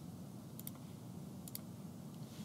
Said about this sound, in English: I'm going to click it and hit escape on my keyboard